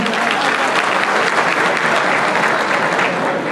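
Steady, dense audience applause fills a community association's reunion gala evening, a loud continuous wash of many hands clapping with no pause.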